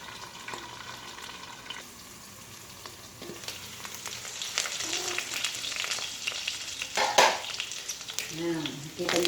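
Pork binagoongan frying in hot oil, with steady sizzling and spattering throughout, growing louder toward the end amid occasional clinks of a utensil against the pan.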